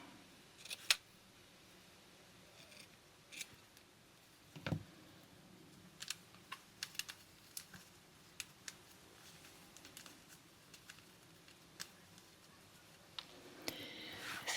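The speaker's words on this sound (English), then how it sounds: "So I think I need to cut some of these off." Scissors cut paper while making a glassine bag journal, giving scattered crisp snips and small clicks at irregular intervals in a quiet room.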